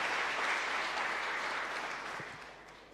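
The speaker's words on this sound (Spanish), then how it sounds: "un fuerte aplauso para ellos" Congregation applause during a Mass in a chapel, a fairly faint, even patter of many hands that slowly fades toward the end.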